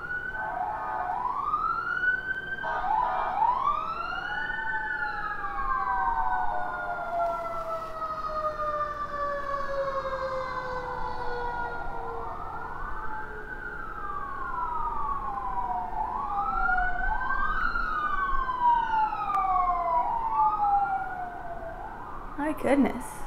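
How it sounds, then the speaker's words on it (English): Several wailing sirens rise and fall over one another outside, sweeping up and down steadily for a long stretch with faint background hum. "Please pause for the sirens outside"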